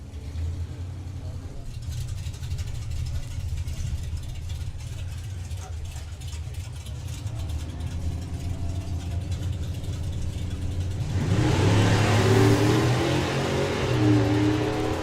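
Nostalgia drag racing car launching off the line with a wheelie at a drag strip event, a steady engine rumble that swells into a louder, rising roar toward the end, with announcer commentary over it.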